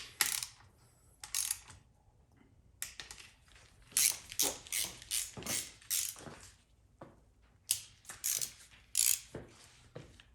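Hand ratchet tightening bolts on a Ford 4R100 automatic transmission, quiet close clicking in short irregular bursts separated by brief pauses.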